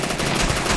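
Rapid automatic gunfire from the browser game SAS Zombie Assault as zombies are shot at a barricade, a dense continuous rattle of shots filling the whole short burst at steady loudness.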